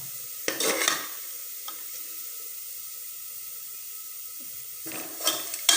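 Kalathappam batter frying until crisp in a pan, a steady hiss of sizzling with clattering bursts of stirring near the start and again at the end, no voices.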